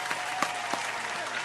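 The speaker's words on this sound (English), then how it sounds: "Round of applause to me for the prison stories" A crowd gives a brief burst of applause after a performer's prison stories, with a few sharper claps standing out from a dense, even wash.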